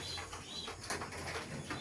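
Racing pigeons coo faintly and steadily in a loft, a low murmuring with a soft rustle of wings, heard briefly and alone.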